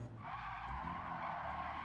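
A car skidding under handbrake in the racing game Gran Turismo 7, a steady loud tire screech holding for about two seconds over a low engine drone, with no talk.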